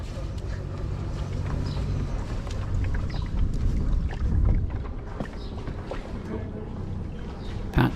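Sailboat heading out of the harbour at Lemmer onto the IJsselmeer: a continuous low rumble of motor and water runs steadily throughout, mixed with gusty wind buffeting on the microphone.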